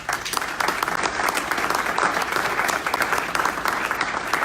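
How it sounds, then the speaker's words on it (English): Steady, dense applause from an audience at a Coatesville city gathering, loud and continuous across the whole stretch with no voices breaking through. "Let's give her a big round of applause."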